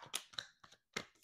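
Tarot cards shuffled by hand in several short papery bursts, close and fairly quiet, with brief pauses between riffles.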